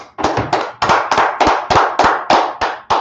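Congregation at a Tuesday brotherhood class clapping in praise, a loud, close series of about a dozen sharp, evenly spaced claps in a steady rhythm with no talk.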